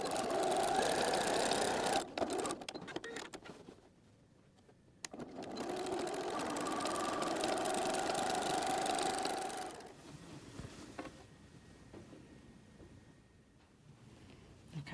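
Sewing machine stitching crossing quilting lines on a quilted notebook cover, running loud in steady bursts, stopping briefly near four seconds and again toward the end, leaving quiet gaps.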